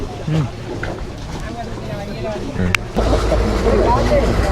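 A large boat carrying several motorbikes to Delft Island rumbles with a low engine drone and water wash that grows louder and steadier partway through, with people talking faintly over it.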